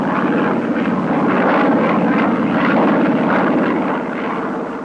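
A military strike plane's propeller aircraft engine in flight over Laos, a loud, steady droning roar with a throbbing pulse, heard close from inside or near the aircraft without any talking.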